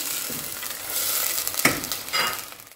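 Cut boneless chicken fillet being fried in oil for a spicy macaroni dish, a loud continuous sizzle with a sharp utensil scrape midway and swelling bursts of hiss, no talking.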